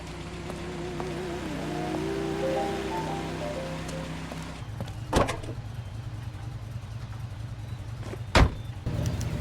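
A car engine hums steadily in L.A. Noire while tailing a cab through the city, with a rumbling low drone and two sharp, loud transient bursts in the second half.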